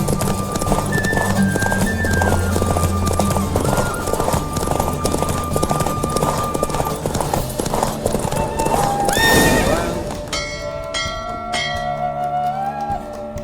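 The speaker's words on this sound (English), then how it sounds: "Don't spare the horse!" Rapid hoofbeats of a galloping horse with a loud neigh near the end, over a busy game soundtrack with bell-like tones, from the video game The Witcher 3.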